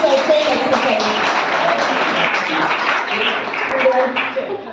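An audience at a college library event claps together in a dense burst of applause that fills the room and fades slightly at the end.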